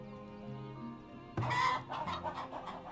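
Chickens cluck in the farm-building game Farthest Frontier, a burst of several overlapping clucks arriving midway over a steady game music bed and continuing in shorter calls to the end.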